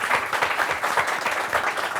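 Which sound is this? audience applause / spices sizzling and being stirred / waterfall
audience applause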